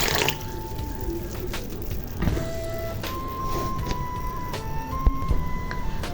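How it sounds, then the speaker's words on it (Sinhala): Plain water runs into a salted pot for a semolina sweet, a continuous pour with faint rising tones as the vessel fills, plus a few knocks and clatters nearby. "දැන් මේකට ඇල් වතුර දානවා."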